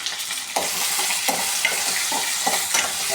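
Ginger and garlic fry in hot oil, making a dense sizzle broken by regular scraping strokes of a spoon stirring through the pan, close and steady, with no talking.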